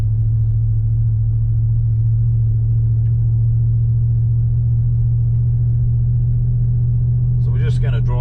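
A car driving through a small country town, with a loud, steady low engine rumble and road drone throughout and a brief voice near the end.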